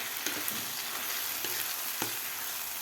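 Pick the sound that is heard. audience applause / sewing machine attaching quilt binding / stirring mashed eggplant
stirring mashed eggplant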